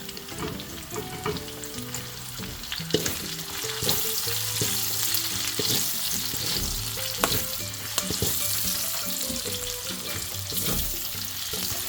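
Garlic and onion fry together in a pan for pancit, a steady loud sizzle with scattered clinks and scrapes of stirring throughout, no voices.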